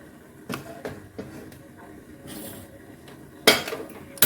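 A small pot holding a quarter cup of milk, warmed double-boiler style for coconut milk tea, is set on a gas stove with several light metallic clinks and knocks, ending in a sharper clatter close by.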